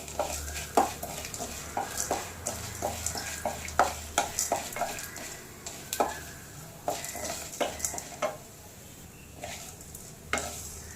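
Irregular scraping and light clatter of a spoon stirring coriander seeds in a dry pan, with a faint sizzle underneath, close and steady for several seconds.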